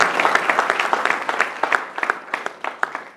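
An audience at a forum closing with a vote of thanks applauds, a lively round of many hands with distinct sharp claps standing out, loud and steady before thinning toward the end.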